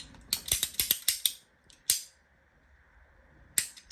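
Scissors snip through a 10x18mm 220V RGB neon flex strip with a quick series of sharp, crunchy clicks up close, then a pause before a few more cuts.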